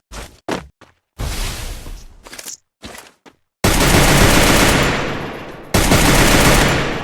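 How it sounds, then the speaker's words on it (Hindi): Bursts of rapid automatic gunfire in the battle royale game Free Fire, broken by short silences, then a long loud sustained volley near the end. "ये कौन है भाई, गोली चला रहा है?"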